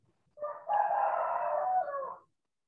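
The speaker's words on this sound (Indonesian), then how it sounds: "Ada ayam." A rooster crows once, a loud, close, sustained cock-a-doodle-doo of about two seconds after a brief lead-in note, with no voices.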